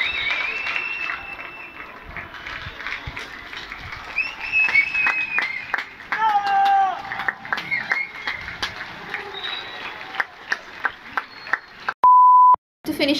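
During a coronavirus lockdown, scattered clapping comes from residents on nearby balconies, sparse and distant. Whistling tones and a short electronic beep break in near the end.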